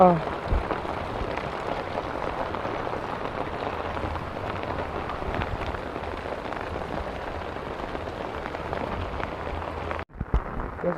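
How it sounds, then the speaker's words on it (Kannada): Heavy rain pours down in a steady, dense roar that holds evenly for about ten seconds before cutting off briefly, with no thunder standing out. "ಮಳೆ ಜೋರಾಗಿ ಬಿಟ್ಟಿದೆ ಫುಲ್ ಜೋರಾಗಿದೆ"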